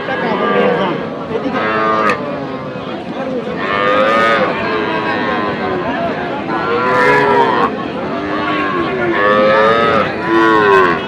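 Cattle at a village cattle market (Aftabganj haat) moo repeatedly, several long, loud lowing calls overlapping and following one another, with crowd noise faintly underneath.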